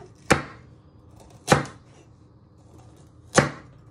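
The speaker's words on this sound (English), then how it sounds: "So you just chop them." Parsnips are chopped on a board with a knife, three separate sharp chops spaced about a second apart, close and distinct with no talk.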